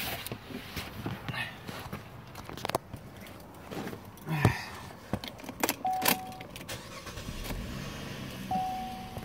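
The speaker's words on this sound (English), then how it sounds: "We're gonna make sure the car starts" A key turns in a 2011 GMC Terrain as the engine cranks and starts, with keys jangling, a couple of short electronic chimes and someone talking nearby.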